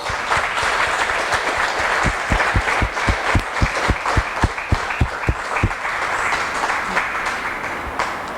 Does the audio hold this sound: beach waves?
no